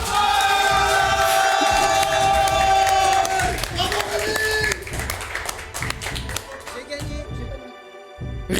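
An audience applauds and cheers for the winner of a project at a results ceremony, loud continuous crowd clapping with shouts and a musical tone at first, then thinning out near the end.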